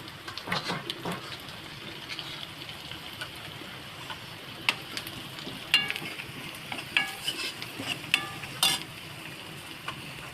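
Asafoetida hits hot oil in a home kitchen and sizzles faintly while a spoon stirs it, giving soft scraping clicks and hisses that rise and fade over a steady low frying hiss.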